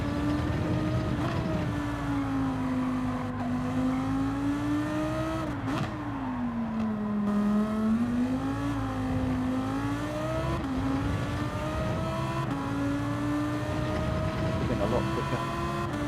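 Lamborghini race car engine in Gran Turismo 7 holding a steady loud drone, its pitch rising and dipping through gear changes and corners, with a brief lift around the middle; a voice talks faintly underneath.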